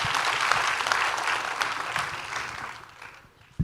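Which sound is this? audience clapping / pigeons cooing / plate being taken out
audience clapping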